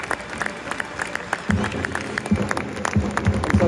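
At full time in a German third-division stadium, Dynamo Dresden players and fans clap together behind the goal, scattered rhythmic claps growing louder and more rhythmic over a murmuring crowd.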